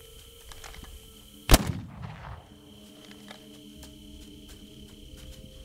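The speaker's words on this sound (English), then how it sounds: "Could go in for the kill with the gun." A single sharp gunshot from a gun in the video game This Land is My Land, cracking loudly and close, then rolling off in a decaying echo over quiet ambient background with faint insect-like chirps.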